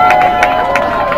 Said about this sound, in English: Texas State maintains possession with a little bit of a round of applause from the crowd down on the field.